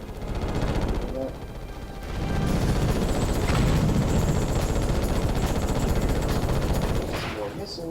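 Gunfire and missile launches from the Ratchet and Clank video game form a dense, continuous barrage of rapid shots and blasts that swell louder partway through, layered over game effects.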